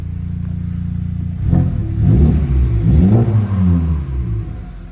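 A 2017 Honda Civic Type R engine idles with a low steady rumble, then revs up and falls back in a few rising and falling pulls, loud and close.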